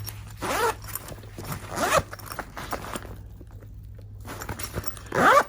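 A bag's zipper pocket is pulled open in several quick rasping strokes, close by, with short pauses and light handling noises between.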